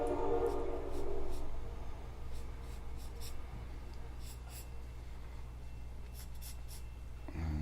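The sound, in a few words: pencil drawing on paper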